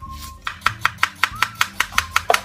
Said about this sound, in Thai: เดี๋ยวเรามาหั่นหอมแล้วก็ต้นหอมผักชีกันก่อนเลยนะคะ